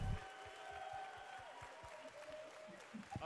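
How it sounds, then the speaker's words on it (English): Faint, dense applause from an audience fills the background, with a voice and some tonal sounds over it. "applaud yourselves."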